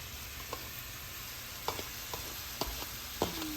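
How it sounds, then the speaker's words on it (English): Tawa pulav with peas and tomatoes stirred in a pan: a soft sizzle runs beneath a handful of scattered scraping knocks from the spoon, fairly quiet and with no talk over it. "Keep stirring."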